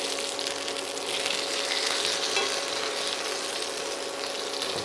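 Fish fillet frying in a pan over medium heat, a steady close sizzle with crackling throughout as the piece is turned; no talking.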